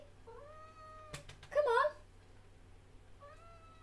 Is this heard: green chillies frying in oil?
no